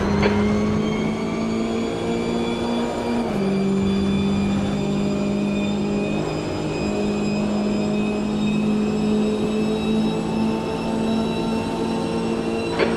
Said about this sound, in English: Okay, Link, there's a faster class car approaching.